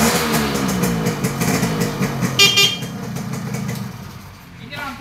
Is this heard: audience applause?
no